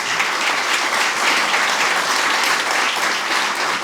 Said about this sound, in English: let's have a big round of applause for the panelists